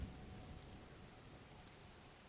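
Steady rain falls in the video game The Legend of Zelda: Tears of the Kingdom, a soft, even patter with no voices, continuous and fairly faint throughout.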